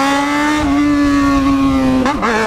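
Yamaha XJ6 motorcycle engine revving steadily up close, a strong sustained tone that climbs and then briefly dips and surges near the end, loud and alone without talk.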